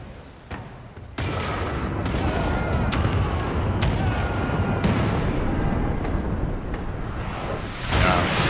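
Ship cannons in a naval battle game fire grape shot, a long dense rolling barrage of booms and blasts close and loud, ending in a final heavy burst.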